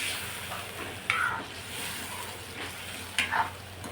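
A spoon stirs a spicy masala jackfruit curry in a pan, making a soft sizzle and simmer. Two sharp scraping strokes stand out near the pan, and no one talks.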